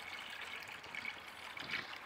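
Water runs into household vessels as a faint, steady trickle and splash, heard from a little distance.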